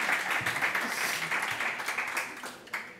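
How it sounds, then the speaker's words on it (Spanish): An audience applauding Olivier Schrauwen and María Medem at a comics talk, dense steady clapping from a crowd that starts strong and slowly thins out over a few seconds. "le dejo por favor un gran aplauso para Olivier Srawen y María Meden"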